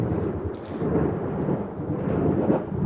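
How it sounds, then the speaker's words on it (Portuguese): Heavy rain pours steadily outside while thunder rolls low and continuous beneath it, loud and enveloping, with a couple of faint sharp clicks on top and no talking. "realmente está chovendo canivetes lá fora, Elk."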